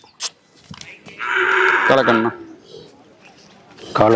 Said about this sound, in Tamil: ஒரு கண்ணுக்குட்டி கொண்டு வந்திருக்கேண்ணா